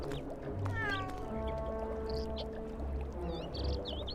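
A cat meows in the LEGO Harry Potter video game, with rising and falling tonal calls over a steady background of game music and ambience.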